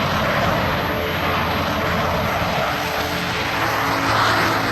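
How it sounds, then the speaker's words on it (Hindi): A Rafale fighter jet roars overhead in a loud, steady, continuous engine rumble lasting nearly five seconds without fading, with no speech. "राफेल को मौजूदा वक्त में दुनिया के सबसे शानदार लड़ाकू विमानों में गिना जाता है"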